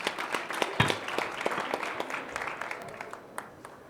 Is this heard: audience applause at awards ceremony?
yes